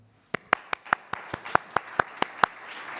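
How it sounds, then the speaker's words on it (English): Hands clapping at a school district state-of-the-schools address: about a dozen crisp, evenly spaced claps in a steady rhythm, loud and close, with little else around them. "That's when you clap."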